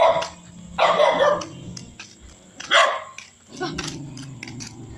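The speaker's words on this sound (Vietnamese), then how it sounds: "Tới tới đầu tiếng chó sủa rồi." A dog barks in loud bursts close by on a village road, several rough barks with short pauses between them, and a person speaks faintly in the background.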